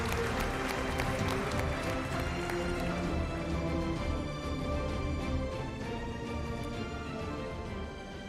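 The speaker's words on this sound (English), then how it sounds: "Can we give a round of applause for Mr." Audience applause at an engineering awards ceremony, a dense, steady clatter of many hands clapping that fills the room and fades slightly toward the end.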